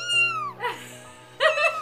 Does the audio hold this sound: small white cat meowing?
yes